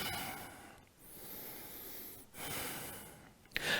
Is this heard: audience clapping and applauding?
no